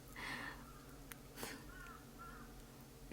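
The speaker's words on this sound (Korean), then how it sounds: "와, 저 까마귀 소리 들리시나요?" A crow caws a few times outdoors at moderate distance, short harsh calls spaced apart over steady background noise.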